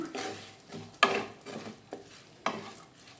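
A spatula stirs ivy gourd fry (dondakaya) in a pan, giving a few distinct scraping strokes against the metal over a faint sizzle, close and fairly quiet.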